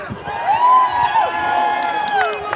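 Rally crowd in the nation's capital cheering and whooping, a dense wash of voices with rising shouts and whistles throughout.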